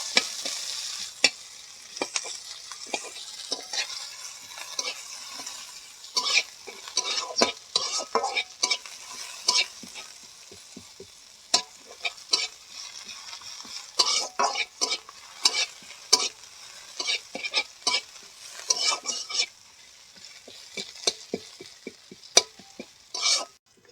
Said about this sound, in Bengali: কুচি করে রাখা পেঁয়াজ একটা এবার লাল লাল করে ভাজবো